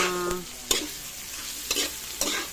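Tofu for adobong kangkong is stirred in a frying pan: a steady soft sizzle runs under three sharp spatula scrapes against the pan, spaced irregularly, with no one talking.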